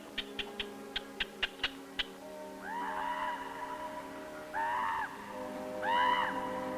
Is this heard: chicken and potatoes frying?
no